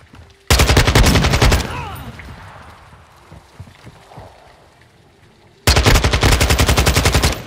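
Automatic rifle fire in the Call of Duty Modern Warfare 2 beta: two loud, close bursts of rapid shots, one near the start and one near the end, with quieter battlefield clatter and faint voices between them.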